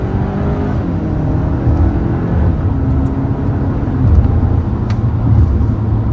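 A 2023 Hyundai Santa Cruz truck's engine hums and builds steadily from inside the cabin in sport mode, rising in pitch as it accelerates without any talking.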